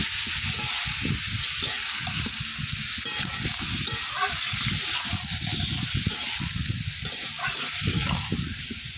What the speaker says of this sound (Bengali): মাংসটা একটু নেড়ে চেড়ে ভালো করে নেড়ে চেড়ে একটু ভেজে নেব।